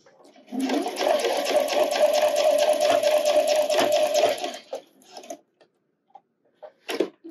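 A sewing machine runs steadily for several seconds, stitching flat layers of a wireless bra up close. It then stops, leaving a few light clicks and handling noises.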